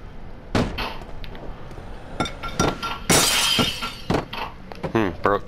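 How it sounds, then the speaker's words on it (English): Glass shatters after being struck with a broom in the horror video game Amnesia, a series of sharp, loud crashes and tinkling breaks scattered across several seconds, with someone talking in between. "Broke glass with a broom."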